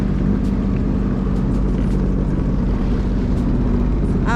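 A jet ski engine drones steadily on open water near Miami, a loud continuous motor hum with wind and water noise throughout.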